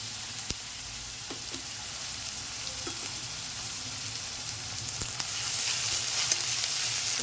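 Garlic and onion fry in oil in a wok, a quiet continuous sizzle with occasional small clicks and stirring knocks, no voices.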